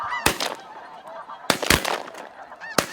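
Spring snow geese honk loudly and repeatedly during a hunt in Canada, with sharp nasal calls overlapping in a busy flock, and sharp bangs, likely gunshots, ring out among them.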